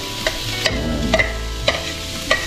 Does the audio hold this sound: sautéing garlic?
yes